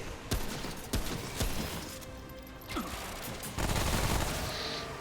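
Gunfire in the video game Remnant: From the Ashes, with several sharp, loud shots spaced irregularly over a dense, noisy combat background and a heavier burst toward the end.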